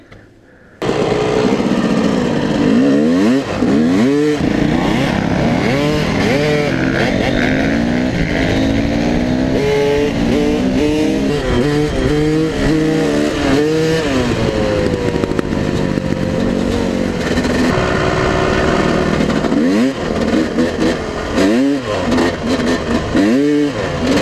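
Motorcycles, including a Yamaha with a gear fault, ride through the first snow. After a brief quiet start, loud engines rev up and down in repeated sweeping rises and falls, with one close bike dominating.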